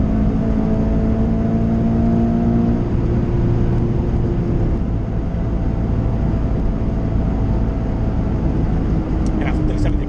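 A Subaru BRZ sports car lapping the Nürburgring, its engine droning steadily with tonal whine and road and wind roar throughout, loud and close as from inside the cabin, with voices talking over it.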